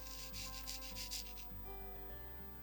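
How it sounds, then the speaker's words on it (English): Embossing powder being rubbed by hand onto a craft card, several quiet, soft scratchy strokes in a loose rhythm, close and faint with no talking. "I've got plenty of powder there that I can just rub it into."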